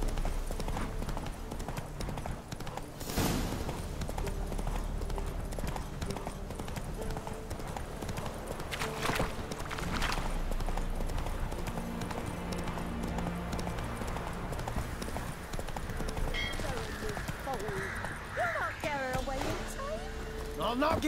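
Steady hoof clip-clop from Roach, a horse in The Witcher 3: Blood and Wine, runs throughout under game music and ambience, with a brief voice in the mix.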